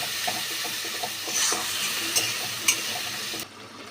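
Tomato, cumin and chili paste frying in oil is stirred in a pan, giving a loud steady sizzle with scraping stir strokes and brief clinks, then cutting off abruptly near the end.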